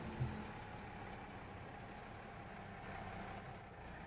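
Truck engine idling in Farming Simulator 22, a steady low rumble that holds evenly throughout, with a slight bump near the start and no talk over it.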